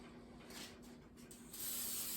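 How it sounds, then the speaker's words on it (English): Short hissing bursts of cooking oil spray onto an air fryer basket, a few quick squirts followed by a longer steady spray, close and fairly quiet. "going to spray the basket that comes with the air fryer just so the chicken doesn't stick"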